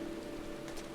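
Steady rain falling in the video game Final Fantasy XIV: Endwalker, a continuous even hiss of drops on surfaces with a faint low tonal hum beneath it and no speech.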